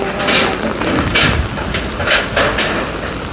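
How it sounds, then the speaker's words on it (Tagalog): Sudden heavy rain falls after a hot day, a steady broadband wash that swells in several brief surges of stronger downpour, loud and close, with no voices. "Ngayon po yung ulan dito sa amin."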